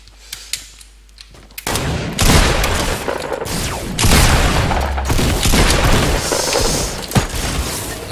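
Shotgun blasts in the Fortnite video game, loud booming shots after a quiet start, followed by dense continuous gunfire and crashing that fills the rest of the stretch.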